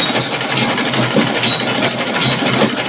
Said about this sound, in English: So now we're going to start stitching.